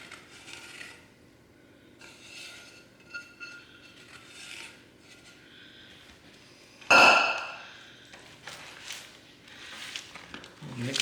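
A spoon scrapes and rubs through candied yams, sweet potatoes with syrup, in a pan, giving soft intermittent stirring scrapes with one sharper clack partway through, fairly quiet throughout.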